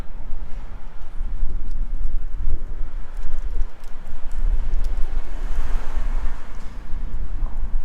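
Strong wind at the Crans-Montana ski resort in the Swiss Alps buffets the microphone in a steady low roar with gusty swells throughout, mixed with a faint rushing like distant surf.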